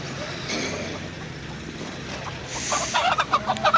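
Chickens cluck in a busy poultry market, with a murmur of background activity at first and then a run of sharper, repeated clucks and squawks growing louder near the end.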